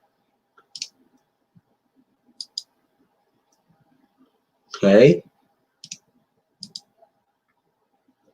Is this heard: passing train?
no